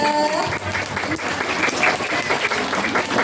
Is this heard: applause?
yes